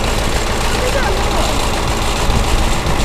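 A KhTZ tractor engine runs close by, a loud, steady low rumble with an even mechanical drone that persists unbroken, while a voice is faintly audible over it.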